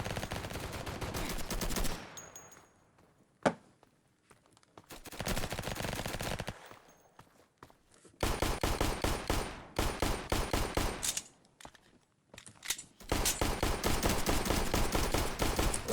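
Pistol gunfire in the multiplayer video game Flag Wars, rapid bursts of sharp shots in dense volleys separated by short silent gaps, loud and close, with one isolated single crack between bursts.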